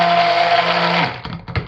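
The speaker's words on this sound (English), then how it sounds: "Just trap that under the stick blender head and burp it a little." A stick blender whirs steadily at close range mixing soap batter, then cuts off, leaving a few soft knocks and rattles.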